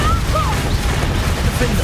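Confringo and Repulsor spell blasts crackle and boom in a Hogwarts Legacy duel, a dense continuous roar of magical impacts with music and effects layered throughout.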